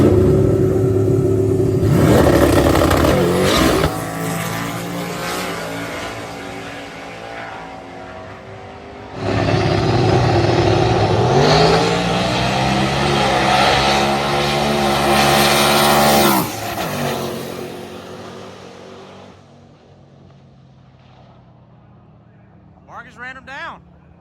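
A stick shift street car in the Streetcar Braggin Rights 2025 stick shift class makes a drag racing pass: two loud, close full-throttle pulls climb in pitch, break at a gear change, then fade off into the distance.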